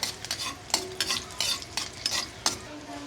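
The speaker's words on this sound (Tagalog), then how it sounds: "Gisa na po tayo ng bawang." Garlic sautéed in a pan for a vegetable dish: quiet, repeated scrapes of a utensil stirring against the pan over a soft, steady sizzle, with no talking.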